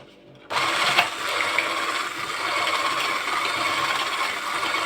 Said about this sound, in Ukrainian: Тим часом зіб'ємо яйця.